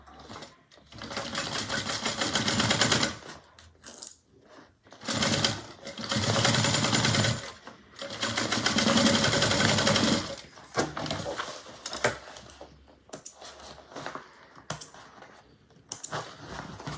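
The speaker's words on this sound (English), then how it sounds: "And then we're gonna sew." A sewing machine stitches a fabric bag in several bursts, each running steadily for a few seconds with short pauses between runs, loud and close.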